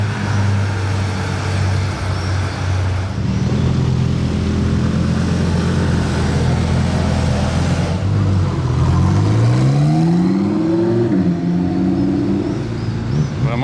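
A deep Ferrari 812 Novitec N-Largo engine drones steadily, then rises and falls through revs as the car pulls away, loud and close, no voices.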